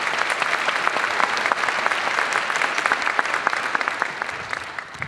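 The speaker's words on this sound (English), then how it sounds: "So I just want to give all those performers another round of applause for doing such a fabulous job." Audience applause for sixth-grade band performers at a school winter concert, a full, sustained round of clapping that holds steady and tapers slightly at the end.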